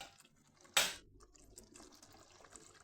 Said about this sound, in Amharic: እንደዚህ ከዛን ውሃ አደርግበታለሁ።